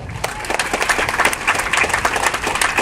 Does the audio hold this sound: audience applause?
yes